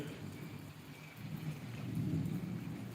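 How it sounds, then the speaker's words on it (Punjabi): Steady heavy rain hisses throughout in Sri Hargobindpur, Gurdaspur, with lightning flashing and a low rumbling of thunder swelling in the background toward the end. "ਮੀਂਹ ਵੀ ਪੈਣ ਰਿਹਾ ਵਾ ਕਾਫੀ ਜ਼ੋਰਾਂ ਦੇ ਉੱਪਰ"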